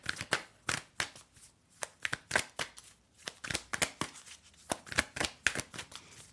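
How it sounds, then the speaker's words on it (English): Quick, crisp riffling bursts of tarot cards being shuffled repeat in an uneven rhythm, close and clear with short pauses between. "One more shuffle, and then we'll get going."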